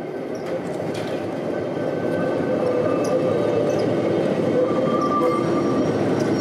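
Reko-type work tram car 19 rolls along the Woltersdorf tramway with a steady, close rumble of wheels on rails and faint squeals and clicks, continuous and loud throughout.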